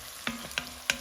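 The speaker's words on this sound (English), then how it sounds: "We're definitely wanting to scrape all the good stuff" Three quick scraping strokes of a utensil across the bottom of a soup pot, close and fairly quiet, each a short gritty sweep over a soft simmering background.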